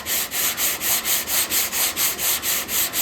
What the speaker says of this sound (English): You want to listen to your sandpaper.